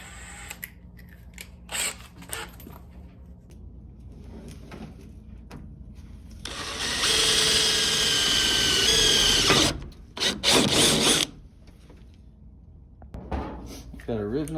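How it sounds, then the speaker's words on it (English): A power drill whines loudly for a few seconds in a sustained burst, enlarging a hole in a Ford F100 truck bed for a rivet nut, with short clicks, handling noises and brief tool bursts around it; someone speaks briefly. "drill this hole a bit bigger."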